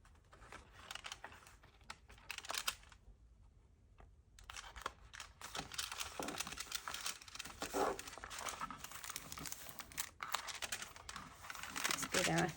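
Paper being folded and creased by hand for a junk journal tip-in, with soft crinkling and sliding rustles close by, a quiet gap in the middle, then denser handling noise toward the end.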